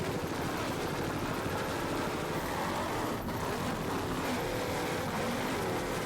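Offshore racing powerboat with big Mercury outboard engines roaring at speed on open water, a loud, steady, rough drone with wind and spray noise throughout.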